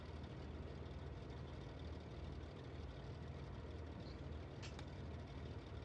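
A second aircraft engine spools up in a flight simulator, a steady, droning hum held at an even level throughout, with no talk over it.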